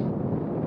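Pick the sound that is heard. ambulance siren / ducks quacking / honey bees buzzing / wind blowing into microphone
wind blowing into microphone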